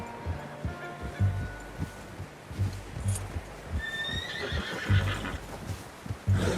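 A horse in Red Dead Redemption 2 whinnies with a rising, shrill call in the middle, over steady thudding hoofbeats and low rumbling background sounds.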